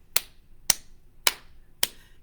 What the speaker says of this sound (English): let's clap for Boyd